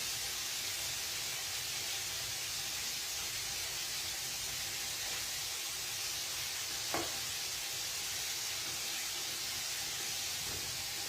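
Buttered chicken sizzles in a pan, a steady broadband hiss of frying that holds evenly throughout, with a single brief clink or tap partway through.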